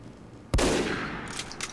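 A sniper rifle fires a single sharp shot during headshot training against bots in a first-person game, with a loud, close crack followed by a long fading echo, and no voices.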